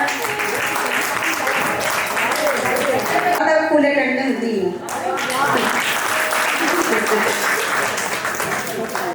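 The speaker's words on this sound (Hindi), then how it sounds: "कृपया जोरदार तालियों के साथ" Loud applause at a Jagriti Club party in Mirzapur, dense clapping from a crowd lasting throughout, with a voice speaking briefly over it partway through.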